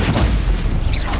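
Stupefy spell cast in the video game Hogwarts Legacy: a loud, booming magical blast with a heavy low thump and bright whooshing crackle, dense and continuous for about a second.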